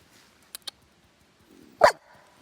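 At a campsite, a dog gives a single sharp bark nearby, preceded by a couple of faint clicks in otherwise quiet surroundings.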